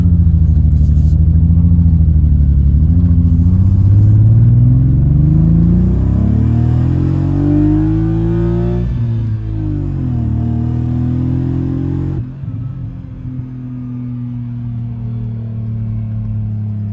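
A BMW E34 Touring with the warmed-up M50 engine runs loud and close, revving up in rising sweeps and settling back to a smooth idle, with no talking.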